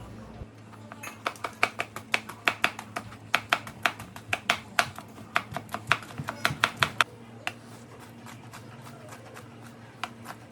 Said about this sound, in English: I'm just going to clean out the seeds and then cut it into small pieces.